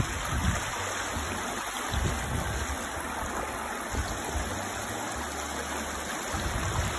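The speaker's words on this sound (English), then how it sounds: "took a little side stop in the creek" A creek flows steadily over rocks while a dog plays and splashes in the shallow water, a constant near burble with faint low thumps underneath.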